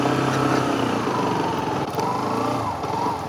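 A brand-new CF Moto 150 NK, a 150cc motorcycle, idles nearby. Its engine gives a steady low throb that holds an even pitch for the whole stretch, with no talking.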